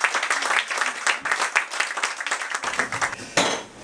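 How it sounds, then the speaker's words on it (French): An audience at an evening performance applauding warmly, many hands clapping in a dense, loud wave that dips briefly and swells again before tapering off. "On l'applaudit très fort, mesdames et messieurs."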